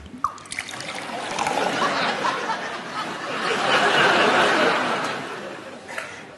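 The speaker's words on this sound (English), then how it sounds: "Can you hear Noddy filling the sink with water?" Steady running water trickling and splashing into a bathroom sink as it fills, rising in intensity midway, with some faint chuckling voices mixed in.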